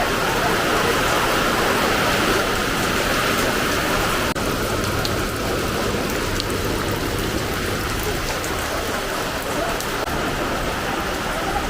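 Steady rain falls in a constant broad hiss that holds evenly from start to finish.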